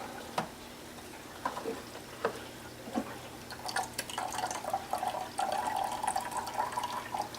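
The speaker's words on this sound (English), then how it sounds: "let it drain just a little bit." Water drains and trickles from a Fluval Edge aquarium filter as it is pulled out, with scattered drips and a steadier soft splashing stream building toward the end, fairly quiet and close.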